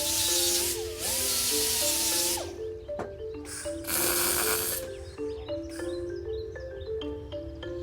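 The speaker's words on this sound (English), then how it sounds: "So I've just started by welding the corners" Welding the corners of a coconut scraper handle in a repair workshop: two long bursts of harsh crackling hiss, with shorter ones after, over steady background music.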